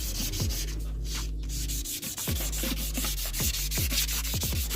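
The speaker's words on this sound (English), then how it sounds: "now we're down to sanding with the hands" Hand sanding a metal wheel rim from a Mk1 Golf with steady back-and-forth rasping strokes, close up, repeated in a regular rhythm with a faint metallic ring.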